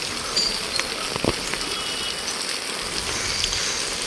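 Steady rain patters down on surfaces nearby in Kanyakumari, a dense continuous hiss with scattered sharper drops and no voices.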